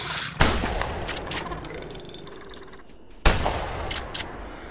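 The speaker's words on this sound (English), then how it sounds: "Now we gotta switch to shotgun." A shotgun fires twice in the video game The Hunter Primal, two loud, sharp blasts about three seconds apart, each followed by a decaying tail.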